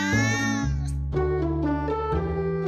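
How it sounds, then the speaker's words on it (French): A domestic cat meows loudly and close, a long drawn-out cry followed by a couple of shorter, wavering meows in quick succession, with no other sound around it. "Un miaulement long indique que votre chat n'est pas content de vous voir."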